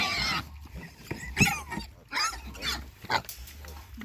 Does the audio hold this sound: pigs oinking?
yes